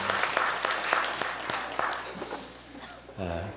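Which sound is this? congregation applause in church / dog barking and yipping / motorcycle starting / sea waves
congregation applause in church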